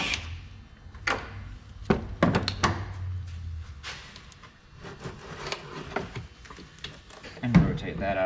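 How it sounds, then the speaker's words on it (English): An overflow tank being pulled out of a Chevy Express engine bay: close plastic clunks, knocks and scraping thumps scattered irregularly, with a person talking at points. "go ahead and remove our overflow tank"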